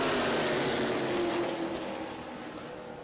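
Super stock race cars at Lancaster Motorplex take the green flag to start a heat race, their engines a loud, broad roar that slowly fades as the pack pulls away.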